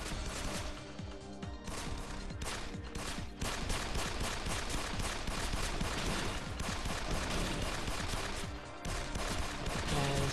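Rifle gunfire in the Android mecha shooting game Destroy Gunners SP II, with rapid continuous bursts of shots and explosive crashes, loud and dense, over game sound effects with no talking.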